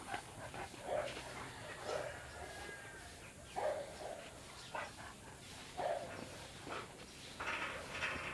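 Dogs held by keepers give short yips, whimpers and barks in scattered bursts about once a second, mid-distance and moderately loud, with faint background activity between calls.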